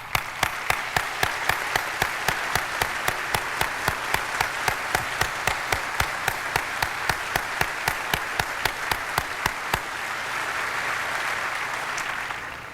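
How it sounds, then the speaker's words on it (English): An audience applauds at a CIA 50th anniversary ceremony with a regular, rhythmic unison clapping at a steady tempo. It then gives way to looser scattered applause toward the end. "we applaud you this morning for everything that you've done."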